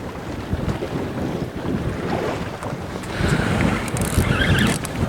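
Small boat's trolling motor running in wind and swell while reef fishing for flounder, a steady low drone and rumble buried in gusting wind noise and wave wash, continuous and fairly close throughout.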